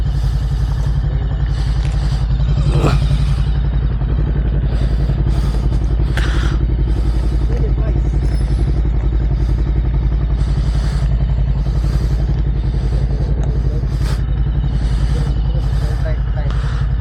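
BMW GS 1250 adventure motorcycle engine running at a steady idle close by on a rough road, a constant low throb throughout with occasional clatter and people talking over it.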